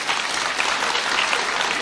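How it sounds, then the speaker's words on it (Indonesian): A large crowd at a student talk show in Indonesia applauds. The clapping is a dense, even roar of many hands that holds at a steady loudness throughout. "Tepuk tangan untuk Indonesia."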